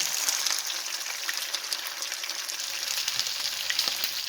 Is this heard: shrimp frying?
yes